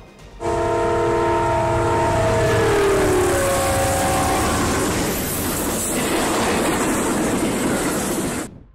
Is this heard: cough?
no